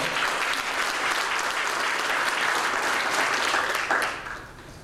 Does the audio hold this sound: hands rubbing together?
no